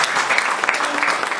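An audience at a Rotary Club district governor's visit claps for a guest in a short burst of dense, even applause from a roomful of people.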